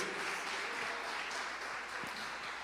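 A church congregation claps for Jesus during a sermon, a soft steady wash of many hands clapping at a distance, brief and even throughout.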